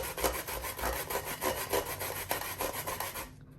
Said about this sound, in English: So basically we're gonna grate it on this side here.